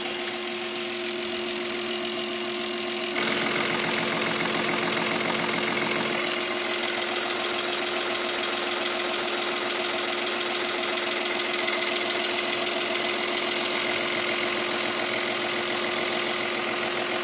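A diesel engine fitted with a rebuilt Stanadyne DB4 injection pump, idling with a steady, rough knocking clatter while the low idle is being set, loud and continuous, with a slight rise in pitch partway through and no talk.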